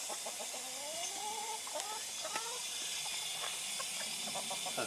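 Chickens cluck and chatter in a coop, a few short calls rising and falling over a steady hiss of background noise, fairly faint and without talking.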